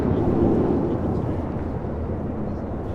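A China Eastern Boeing 777 airliner on final approach into LAX rumbles as a steady, broad low roar, continuous and fairly loud throughout with no voices.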